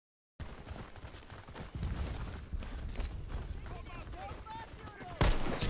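A grenade goes off amid gunfire in the shooter game Warface, with sharp gun reports and a sustained noisy rumble ending in a loud close blast near the end, and someone talking faintly under the action.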